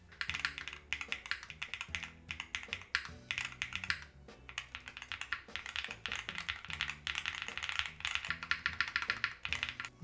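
Dense, continuous clacking of fast typing on a mechanical keyboard fitted with Hall effect switches, keystrokes close and crisp in quick irregular bursts with no voices for the full stretch.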